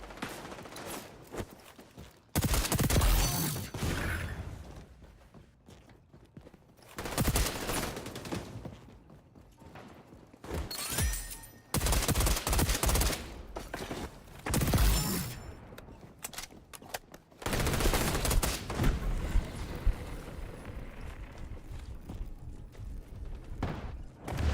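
Shotgun blasts in the online shooter XDefiant, loud, sharp bursts of gunfire arriving in several separate clusters with quieter gaps between them, with no talking.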